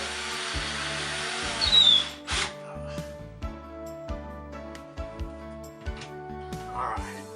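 A power drill drives a screw for a fluorescent light fixture install, a loud whirring burst followed by a series of short stop-start pulses as the screw bites, close by with someone talking between bursts.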